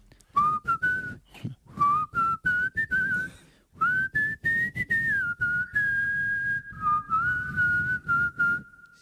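Someone whistles a wavering, sliding tune in short bursts and longer held notes, close and fairly loud, with no talking.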